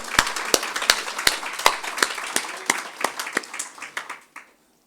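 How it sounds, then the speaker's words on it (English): Applause for a moderator at a Kingston Harbour cleanup event, a modest group clapping with distinct individual claps standing out, building briefly then thinning and stopping abruptly near the end. "Can we give him a round of applause?"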